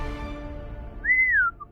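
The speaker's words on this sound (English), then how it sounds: "you're just whistling." A person whistles one short, clear note that rises slightly, holds, then glides downward, followed by a faint brief chirp, over a low background hum with no speech.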